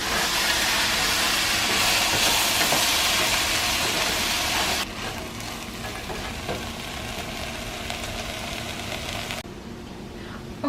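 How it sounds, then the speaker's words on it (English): Vegetables for a spicy Moroccan lentil soup sauté in a pot with a steady, broadband sizzle. The sound drops a step partway through, then softens again near the end, with no talk. "you're going to saute this for about 8 to 10 minutes until the vegetables are mostly cooked through."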